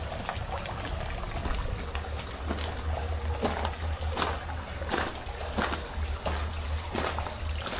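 Hot water trickles and splashes steadily in a fish spa pool at an outlet in Nagashima, near Nagoya, with a continuous wash broken by occasional sharper splashes.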